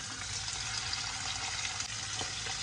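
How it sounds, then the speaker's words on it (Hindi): Chicken pieces frying with garlic in oil over high heat, giving a steady, close hiss and crackle of sizzling that holds at an even level throughout with no voices. "क्योंकि हम इसे फ्राई कर रहे हैं गार्लिक, ऑयल और चिकन को"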